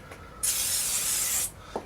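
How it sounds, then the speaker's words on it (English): A single short hiss of aerosol grease spray on a Yamaha MT-07 fork spindle, about a second long, close and distinct against quiet surroundings. "Give the spindle a bit of a spray with some grease"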